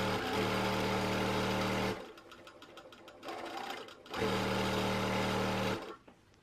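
An industrial sewing machine stitches a large fabric scrunchie in two steady, loud motor-driven runs separated by a short pause with faint rustling, then stops.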